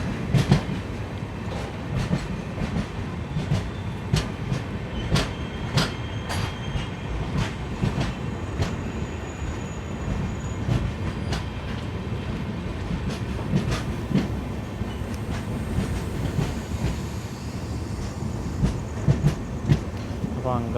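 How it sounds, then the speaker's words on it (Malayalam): The Ernakulam–Karaikal Express runs onward after leaving Angamaly station, heard from inside with a continuous low rumble and repeated clickety-clack wheel beats over rail joints, steady and fairly close. "അങ്കമാലി സ്റ്റേഷനിൽ നിന്ന് പുറപ്പെട്ടു. ഇത് നമ്മുടെ കാരയ്ക്കൽ വണ്ടിയാണ്."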